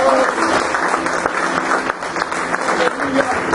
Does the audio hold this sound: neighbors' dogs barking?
no